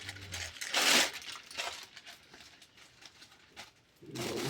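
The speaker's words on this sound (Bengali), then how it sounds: "তো তোমাদের সামনে আনপ্যাক করি।" A newly arrived jacket parcel is unpacked up close, with loud plastic crinkling and rustling bursts between quieter handling sounds.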